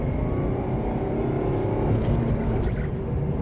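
A Nissan Magnite compact SUV's 3-cylinder petrol engine runs while driving, a steady low drone with a faint whine as the car moves along, heard from inside the cabin with no talking.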